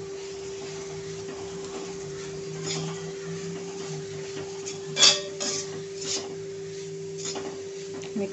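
Salted cabbage gets mixed with moong dal in a pan for kobi mugchi bhaji, heard as a spoon scraping and clinking against metal, mostly soft with a few sharper knocks over a steady background hum.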